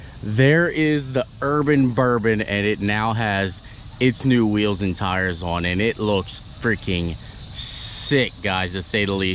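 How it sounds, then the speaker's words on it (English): Cicadas buzz outdoors with a faint, high, steady drone that swells briefly into a louder burst, sitting beneath someone speaking close and energetically. "Sorry about the cicadas."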